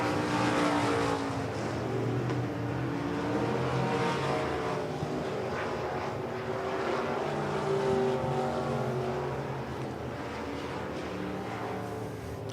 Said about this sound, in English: 2 laps to go here in heat race number 1 for the limited modifieds.